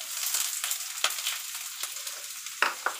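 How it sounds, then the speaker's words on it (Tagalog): Garlic and onion fry in a pan on a stovetop, a steady bright sizzle running throughout with occasional sharper crackles and spatula scrapes, close and fairly loud with no talking. "Tapos ngayon, lagyan na natin ang ating bawang"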